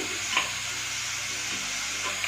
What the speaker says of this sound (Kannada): ತರಕಾರಿ ಎಣ್ಣೆಯಲ್ಲಿ ಸ್ವಲ್ಪ ಹುರಿದಿದ್ದೀನಿ.